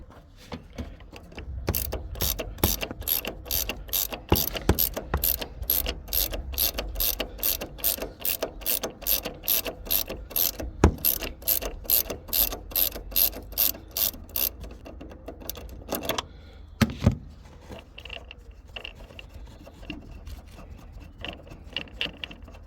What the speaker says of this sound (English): Now you need to undo this nut.